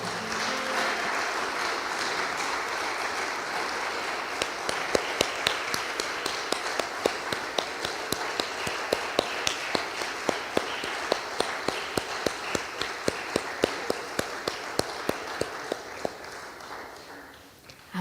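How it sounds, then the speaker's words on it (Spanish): A church congregation claps together for God at the close of a worship service, steady and moderately loud for the whole stretch, with sharp individual claps standing out as it tapers off at the end. "Dar un aplauso a tu Dios."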